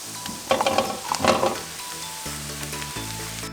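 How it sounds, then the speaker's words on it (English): Onions and mushrooms sauté in a pan with a soft, close sizzle, broken by a few brief louder bursts of stirring near the start. "So now we're gonna let that cook until the mushrooms become slightly golden brown."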